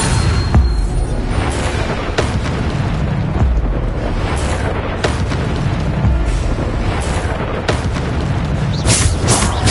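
Spell blasts from Bombarda in the video game Hogwarts Legacy, repeated booming bursts at irregular intervals over a dense, continuous roar of game combat noise, loud throughout with no talking.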